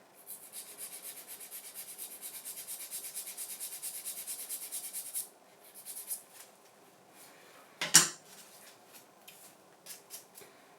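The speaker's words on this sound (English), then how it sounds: "And I'm just filing a little bit, that's it. And then same on this side." A nail file rasps against an artificial nail tip in quick, steady short strokes for several seconds, close and soft, then stops, leaving a few scattered handling noises and one brief louder scrape.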